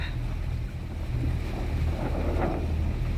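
A sailboat motors under engine power in light wind, with a steady low engine drone under constant wind rush and water wash, and no talking.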